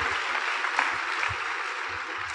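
A church congregation applauding during a Sunday school worship service in a cathedral, a steady wash of clapping from many hands with soft low thumps underneath, no speech over it.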